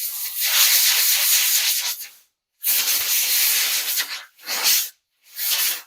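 Compressed air blasts debris off a wet chainsaw air filter in four close, hissing bursts, a long one first and then shorter ones separated by brief silences.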